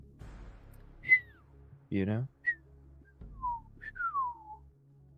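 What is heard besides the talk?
person whistling a Western-style tune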